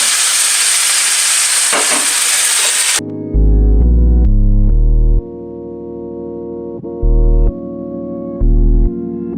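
Soy sauce hits a hot pan with a loud, bright sizzle that lasts about three seconds and then cuts off abruptly, giving way to a series of clean electronic tones.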